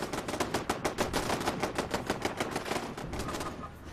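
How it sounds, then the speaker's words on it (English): Automated turrets in Fallout 76 fire a rapid, sustained burst of gunfire, close and loud and evenly spaced, for about three seconds before the shots stop. "Good thing I have turrets."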